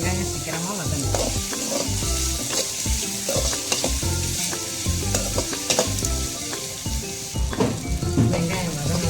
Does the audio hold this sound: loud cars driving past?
no